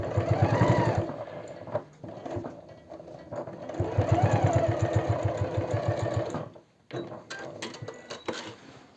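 A sewing machine running an inner topstitch on a pair of jeans, whirring loudly in two long runs with a short pause between them, then going quiet before a few brief clicks.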